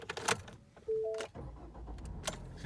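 A 2015 Ford Fusion SE being started: a short electronic chime and some clicking, then the engine cranks and catches, settling into a steady close idle.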